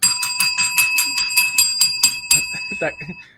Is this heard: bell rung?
yes